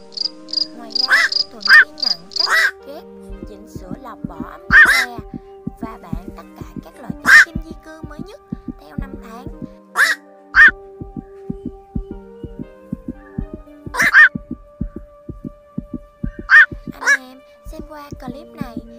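Recorded calls of black-crowned night herons used to call a flock, a series of loud, hoarse, croaking squawks repeating every one to three seconds, close and clear over a steady low electronic hum.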